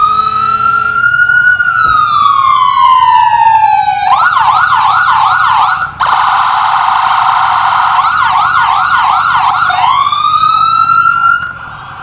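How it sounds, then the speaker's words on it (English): An ambulance siren in a parade wails loudly and steadily, then switches to a fast yelp pattern, back to wail, and yelps again, close by and continuous throughout. "Then you got the loud ambulance from New Richland."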